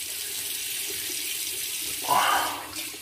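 Tap water running into a sink for a rinse after a shave, a steady faint flow that swells louder briefly near the end, heard alone without talk.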